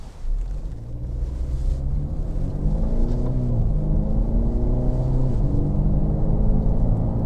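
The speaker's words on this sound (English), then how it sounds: "So I'm going to get the car up to about 50 miles an hour." A car accelerates on an open road up to about 50 miles an hour. The engine drone climbs in pitch through the gears over a constant rush of road and wind noise, loud and close, with no talk.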